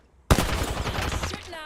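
Video game gunfire bursts in abruptly after a quiet moment: a loud rattle of rapid automatic shots that continues in a dense stream, with voices faintly underneath.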